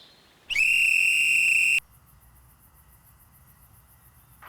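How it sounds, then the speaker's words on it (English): A single loud, shrill whistle blast lasts just over a second, followed by faint insect-like chirping in the quiet background. "Listen to my whistle."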